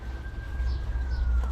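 A faint siren wails far off as a thin steady tone over low rumbling background noise.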